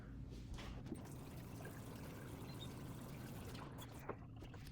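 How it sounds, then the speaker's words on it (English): Hot water pouring steadily in a quiet trickle onto chopped dates, close by and fairly soft, with a few light clinks. "we are taking the chopped dates and adding it to 8 ounces of hot water"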